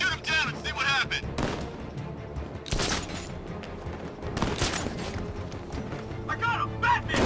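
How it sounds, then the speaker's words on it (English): Gunfire in the action game Batman: Arkham Knight: repeated sharp shots and bursts spread through the stretch, loud and close, over a busy game soundscape with intermittent voices. "I'll shoot him down and see what happened"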